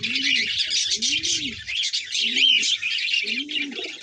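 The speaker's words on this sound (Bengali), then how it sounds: "এটা ডবল ডুমের পায়রা এবং হাতে থাকছে না বন্ধুরা, খুবই ছটপটে পায়রাগুলো" Repeated soft coos from double-crested pigeons, about four rolling calls, close by, over a steady bed of bright chirping birds.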